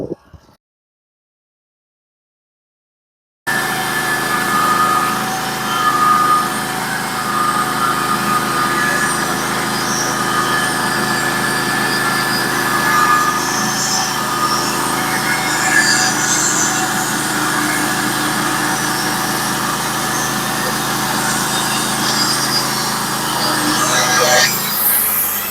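Sawmill cutting a log, a steady loud engine drone with a continuous blade whine running for over twenty seconds after a short silent start, nearby and unbroken.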